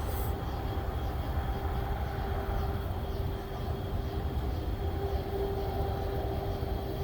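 Diesel freight train locomotives rumble steadily at a distance in Idabel, Oklahoma, a low continuous drone with a faint tonal hum and no voices.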